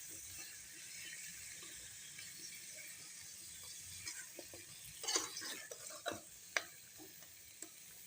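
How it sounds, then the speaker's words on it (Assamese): Pumpkin curry (rongalau) being stirred in a pan, a quiet continuous sizzle under a spoon scraping and clinking against the pan, with the scrapes clustering in short bursts toward the end; no voices. "সেইটো পাতল বনাই ৰঙালাওখিনি মই লৰাই দিলোঁ ভালকৈ"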